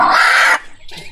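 A chicken in a village in Dumalag, Capiz lets out a loud, close squawking cluck lasting about half a second, followed by quieter rustling.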